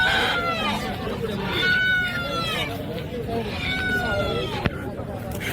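A rooster crows repeatedly at a busy chicken market where local desi hens are sold, two long drawn-out calls rising over constant crowd chatter and people talking.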